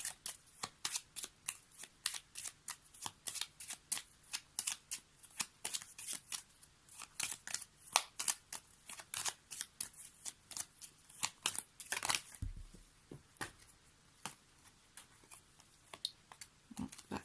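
Tarot cards being shuffled by hand, a steady run of crisp riffling snaps and soft slides that carries on for the whole stretch with no talking.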